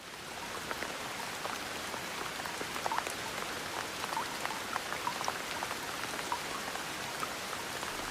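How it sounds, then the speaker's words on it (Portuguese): Heavy rain falls steadily, a dense hiss of countless drops with occasional sharper patters on a surface, continuous and fairly close, with no voices. "A Bíblia descreve que a chuva caiu incessantemente durante 40 dias e 40 noites."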